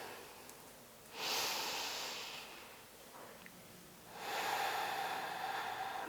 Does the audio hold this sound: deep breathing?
yes